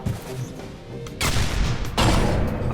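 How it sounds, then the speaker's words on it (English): An explosion in the Bridge Constructor Portal video game erupts as a loud, crackling burst, followed by a second broad blast, both loud and close with no talking. "A fancy explosion."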